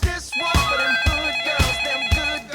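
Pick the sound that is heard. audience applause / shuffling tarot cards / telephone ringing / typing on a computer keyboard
telephone ringing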